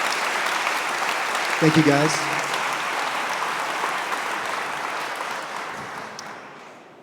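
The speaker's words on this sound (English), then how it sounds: "how about a big round of applause for these two gentlemen right here" Applause from a conference audience fills the hall for two speakers, with a steady wash of clapping that slowly fades, and someone briefly speaks over it.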